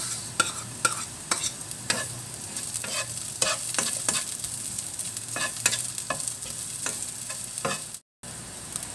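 Garlic and onion sautéing in a pan, a dense continuous sizzle close by, punctuated by frequent clacking spatula strokes in an uneven rhythm, with a brief cut to silence near the end.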